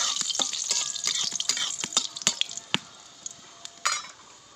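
Dried red chillies crackling as they fry in a pan, a dense run of sharp close pops and sputters over a steady sizzle that thins out toward the end.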